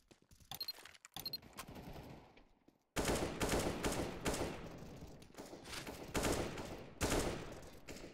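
AK rifle fire in L.A. Noire, a few faint scattered shots and then sustained loud automatic bursts that rattle on for several seconds, close and dense.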